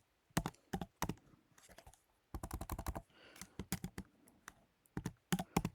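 Bursts of typing on a computer keyboard, rapid clicky keystrokes in uneven runs with short pauses between, close and fairly quiet, no voices.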